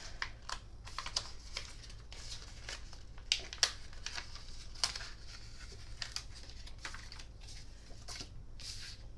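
Backing being peeled off a folded paper card piece, soft crinkling, ticking and tearing sounds in irregular small bursts, quiet and close with no talk.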